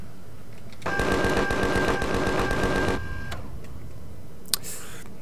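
Rapid plasma weapon fire in the sci-fi survival game Empyrion, a dense stuttering burst of shots with a steady tone running under it for about two seconds, loud and close, followed by quiet ambience and a brief sharp blip.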